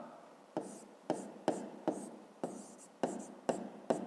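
A pen scratches across paper in about nine short, distinct strokes spaced roughly half a second apart, close and quiet, with no talk.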